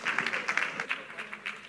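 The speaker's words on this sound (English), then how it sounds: "Can we show our appreciation by our claps?" An audience at a moms' conference applauds, a brief burst of many hands clapping in quick, uneven overlapping beats at moderate loudness.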